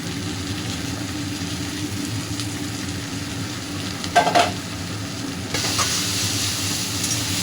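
Potatoes hit a hot pan of lightly fried green chilli and cumin powder, sizzling and frying steadily while being stirred, with a brief clatter of stirring midway and the hiss growing brighter and louder toward the end.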